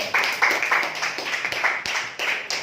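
A burst of clapping from a classroom of students, fairly close, quick and uneven, lasting a couple of seconds with no talking.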